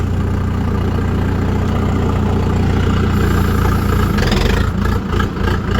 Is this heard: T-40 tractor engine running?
yes